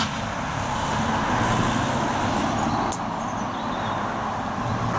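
Traffic on the busy A625 road near Sheffield, a steady, dense roar of passing cars and heavier vehicles heard from close by the roadside, continuous throughout with no talking.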